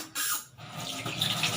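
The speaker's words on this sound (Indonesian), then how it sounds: "Kemudian nyalakan keran," Water runs from a turned-on tap as hands are about to be washed, a steady close splashing stream with a brief dip near the start.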